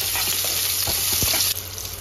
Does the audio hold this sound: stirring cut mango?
yes